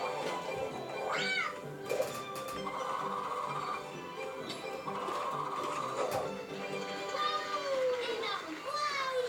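A cartoon cat in a French-dubbed animated game show gives several rising, squeaky meows, heard over background music, children's playful chatter and lively narration.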